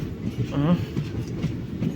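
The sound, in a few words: passenger train running, Madurai-Punalur Express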